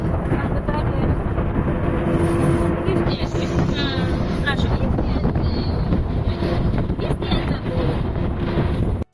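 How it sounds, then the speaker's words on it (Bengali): Strong wind buffeting a microphone near a river bridge, a constant loud roar with gusty rumble throughout, faint higher whistling tones partway through. "বাতাস দেখো, বাতাস"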